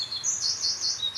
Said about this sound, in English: As a blackbird agrees with you.